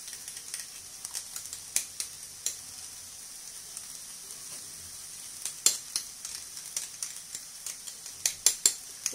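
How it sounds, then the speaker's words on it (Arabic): A spoon stirring a hamburger mixture with ketchup in a hot pan, a faint steady sizzle broken by scattered light scraping and clinking taps. "وصافي هادشي غادي نحركو باش نحصل على واحد الخليط"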